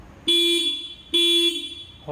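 Two loud, sharp horn honks from a TVS Ntorq 125 or Suzuki Burgman Street 125 scooter, each held about a second, close by with a short gap between them.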